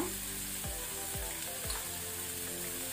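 Garlic sizzles and fries in oil alongside squid over a medium flame, a steady dense crackle filling the whole stretch, with a few soft scrapes of stirring and no voices.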